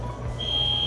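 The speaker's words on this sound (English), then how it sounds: "I'm getting ready and the fire alarm's going off." A fire alarm going off early in the morning at home, a steady high-pitched electronic tone that starts partway through and holds continuously over a low background hum.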